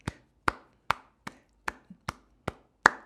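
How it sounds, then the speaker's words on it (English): Sharp, dry percussive hits tap out a New Orleans street beat in a 3-2 pattern, eight crisp strikes with a faint softer note between them, close and alone. "This intro follows what is called the 3-beat or the 3-2 pattern of a New Orleans street beat rhythm."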